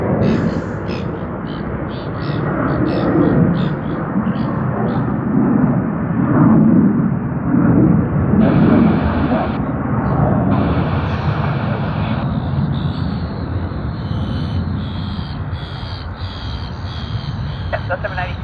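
Loud, continuous roar of aircraft on a runway at Sydney Airport, with an A340 among the traffic, filling the scene with broad rumbling engine noise throughout and faint tonal whines near the end.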